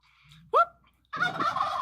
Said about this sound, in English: Look, turkeys!